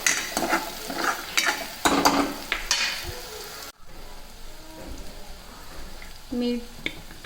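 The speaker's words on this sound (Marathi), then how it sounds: "आता हे मस्त छान फ्राय होऊ द्यायचं" Potatoes fry in a pan with turmeric and coriander powder, a soft sizzle under repeated scraping stirs and clinks of a spoon, with a brief pause midway before the stirring resumes.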